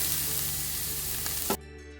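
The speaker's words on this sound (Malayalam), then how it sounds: "നെയ്യ് ഇതുപോലൊന്ന് ഉരുകി വരുന്നുണ്ടെങ്കിൽ നമുക്ക് ആ ഗ്രേറ്റ് ചെയ്ത് വെച്ചിരിക്കുന്ന ക്യാരറ്റ് ഒന്ന് ഇട്ട് കൊടുക്കാം." Grated carrot sizzles in melted ghee in a pan, a close, steady crackling hiss that suddenly drops away after about a second and a half, with no talk over it.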